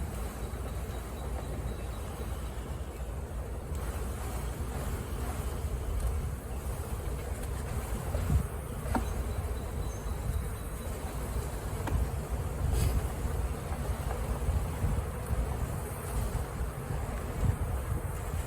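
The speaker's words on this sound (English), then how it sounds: "Bees are starting to come out." A swarm of honeybees being dumped from a package cage into a hive gives a steady, dense buzzing hum throughout, with occasional faint knocks and handling sounds.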